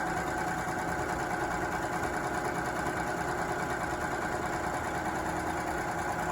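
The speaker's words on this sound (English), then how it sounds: "With a serger, you can sew off the fabric, so you can see I'm pulling it out here, and cut." A serger stitches and trims a fabric edge while sewing a face covering, running as a loud, steady, fast mechanical whir close by with no pauses.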